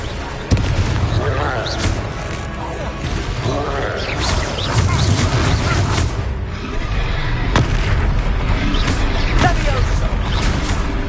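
Spell blasts and explosions from combat in the PS5 video game Hogwarts Legacy, including the Confringo fire spell, land as repeated booming impacts over a steady layer of battle noise and music, with voices calling out throughout.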